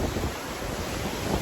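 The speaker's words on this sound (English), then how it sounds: "we are here at Hapuna Beach" Ocean surf at Hapuna Beach on Hawaii's Big Island on a hot, crowded day makes a loud, continuous broadband rush, mixed with wind buffeting the microphone and no voices.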